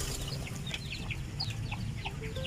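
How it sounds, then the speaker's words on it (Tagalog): Chickens penned on a mini farm cluck and chirp in quick, overlapping bursts, moderately close, over a steady low rural background hum. "kinulong ko yung mga manok kasi uh, nasisira nila"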